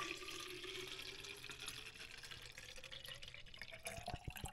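Water pours from a tap into a Brita filter pitcher, a soft continuous trickling splash that ends with a few faint drips, fairly quiet and heard alone.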